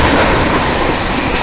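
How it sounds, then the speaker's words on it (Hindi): A Duronto Express train runs along the track with a loud, continuous broadband roar and rumble heard up close, with no talk over it. "एक ऐसी ट्रेन जो ट्रैक पे बस चलती नहीं है,"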